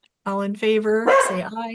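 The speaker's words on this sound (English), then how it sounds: "I heard a dog barking." Dog barking during a conservation commission meeting, a few short yips and barks mixed in close under a person speaking over the call.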